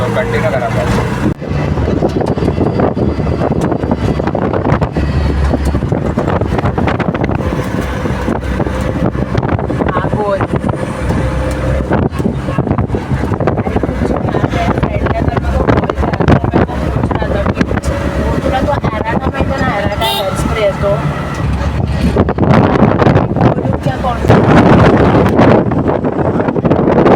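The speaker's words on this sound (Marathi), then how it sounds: "आम्ही दादाच्या बाईकवर बसलोय पल्सरवर" Heavy wind rush buffets the microphone on a Pulsar motorbike ride along a main road in Konkan, a constant loud roar with engine drone beneath and people talking over it.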